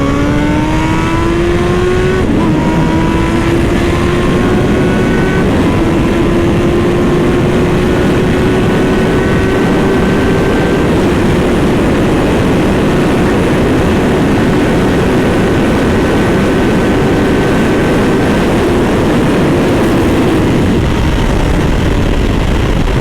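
A car engine in sixth gear pulls hard through a 60 mph roll at around 4,500 RPM, a loud steady drone whose pitch climbs slowly. Wind and road roar sit under it and no one speaks.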